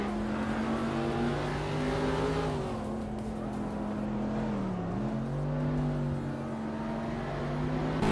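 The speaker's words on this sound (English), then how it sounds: "the race is kicking off at Autumn Ring Mini, and leading the pack is Nuts in a 1994 Nissan 300ZX" Several race cars launch off the line together at the start of a race on the Autumn Ring Mini circuit in a racing video game, led by a 1994 Nissan 300ZX, with engines droning loudly and steadily as their pitch rises and shifts throughout.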